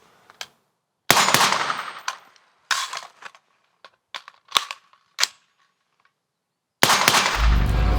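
Gunfire from training weapons erupts in loud, sharp bursts: one early shot, then several clusters of rapid cracks, a pause of silence, and a final sustained burst near the end.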